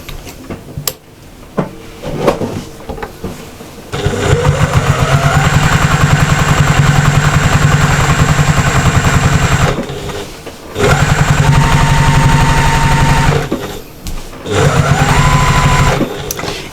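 A sewing machine stitches a diamond lap quilt a quarter inch from a seam, running in three loud steady bursts of rapid mechanical chatter separated by short pauses, with no talking.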